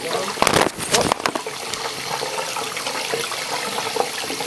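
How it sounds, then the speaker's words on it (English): Water runs steadily from a tap, a continuous close hiss and trickle with louder splashy bursts in the first second, then settling into an even flow. "Now let the water run."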